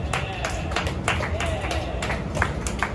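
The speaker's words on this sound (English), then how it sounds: "Yank wants everyone to applaud, so let's all applaud really quick" A comedy club audience at Gnar Bar claps together in a dense, steady patter of many hands that fills the room, with loose crowd murmur running underneath.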